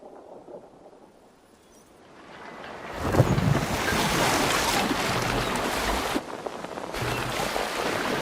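Sailing ship cutting through ocean waves in Assassin's Creed Valhalla: quiet at first, then a steady loud wash of surf and wind rises and holds, with a brief dip near the end.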